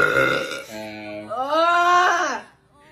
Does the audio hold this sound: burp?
yes